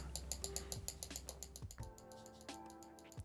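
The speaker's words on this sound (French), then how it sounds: "si je parle en même temps que je clique sur ma souris, t'entends le bruit de ma souris assez fort" A computer mouse clicking through a noise gate gives a rapid series of sharp, close clicks. They sound clipped and uneven, with some tonal ringing near the end and no talking.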